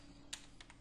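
Keystrokes on a computer keyboard, a few separate taps spaced irregularly, quiet and close over a low room hum.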